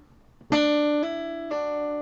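After a faint pluck, a single guitar note on the 2nd string rings out, then a hammered-on higher note and a pull-off back down, clean and close, from a song's riff.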